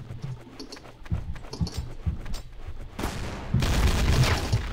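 Gunfire and explosions in Counter-Strike: Source, with sharp bursts of shots early and a heavy blast roaring in around the three-second mark and sustained to the end.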